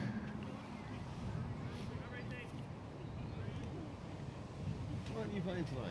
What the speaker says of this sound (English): Wind is gusting a bit here, if you hear it in the background.